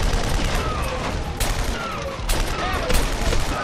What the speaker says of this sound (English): the rotary cannon.